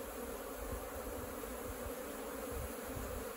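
Apis honeybees swarm into a wooden hive box set on a termite mound in an open pasture, making a steady, dense, droning hum that stays even throughout with no voices.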